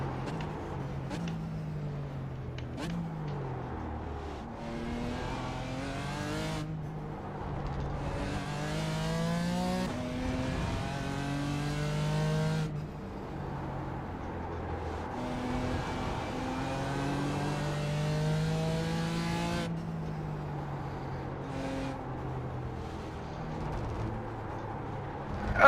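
GT4 race cars in a racing video game accelerate and rev through the gears, engines rising and falling in repeated sweeps with cars passing, loud and continuous with no talk.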